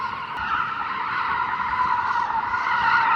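Mercedes-AMG A35 tires skidding and squealing while drifting, a loud, continuous screech with engine roar that holds steady and swells slightly toward the end, no talking.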